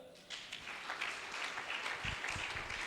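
A church congregation applauding God during a revival service, with bursts of clapping that build and pulse irregularly, some sharper rhythmic claps and thumps near the end.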